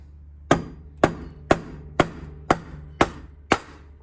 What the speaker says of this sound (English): I'm gonna use a rubber hammer and tap on it